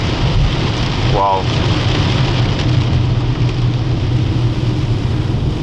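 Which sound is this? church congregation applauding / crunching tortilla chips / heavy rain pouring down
heavy rain pouring down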